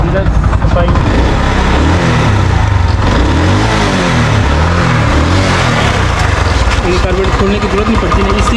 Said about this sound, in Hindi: उसके बाद जो है बाइक की स्पीड आपने देनी है।